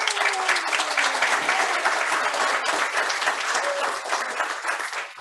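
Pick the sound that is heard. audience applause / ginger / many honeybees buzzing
audience applause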